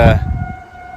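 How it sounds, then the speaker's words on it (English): Civil defense sirens wail steadily in the Midwest during humid weather after rain, heard as a sustained tone at moderate distance after a short burst of nearby noise. "the sirens are going off"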